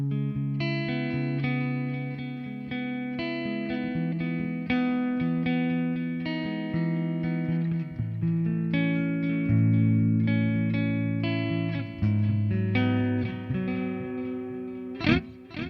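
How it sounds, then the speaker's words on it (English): Sustained electric guitar chords ring continuously with distortion and echoing ping-pong delay repeats, ending with a sharp pick scrape. "Let's hear this delay."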